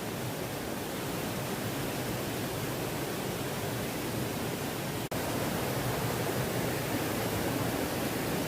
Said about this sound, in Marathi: पाऊस पण भरपूरच पडता आणि बघा नदीत पण पूर्ण खदूळ पाणी झालेलं आहे